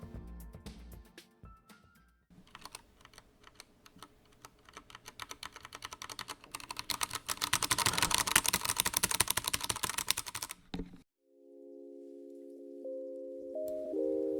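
Das Keyboard 4Q mechanical keyboard typed on steadily, with dense, close clacking keystrokes that build into a fast, loud flurry before stopping abruptly.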